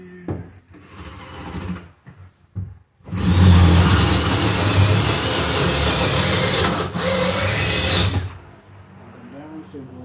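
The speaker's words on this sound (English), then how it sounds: "so we'll drill a hole right here" A power drill whines and grinds through wood, boring a hole for electrical wire, for several seconds after a few short bursts, with quieter handling noise before and after.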